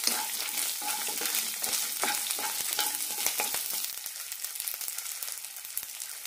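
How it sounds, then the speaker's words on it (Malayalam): Shallots and curry leaves sautéing in a pan for a horse gram curry: steady close sizzling and crackling frying with repeated scraping stirs, no voices. "നന്നായി വഴറ്റാം. കുറച്ച് കറിവേപ്പില കൂടി ഇടാം."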